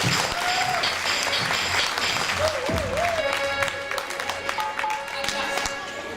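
Audience applause at a Holi celebration held in a Hindu temple, dense sustained clapping from a crowd with scattered cheers and voices, steady and fairly loud throughout.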